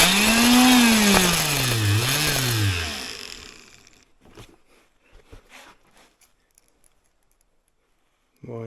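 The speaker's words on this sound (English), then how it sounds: "this drill motor has a foot activated thing, so I can put it in place here and just activate the foot" A foot-activated drill motor bores a hole for a geared banjo tuner in a banjo peghead, a loud rising and falling whine for about three seconds, then quiet handling clatter and a short burst at the end.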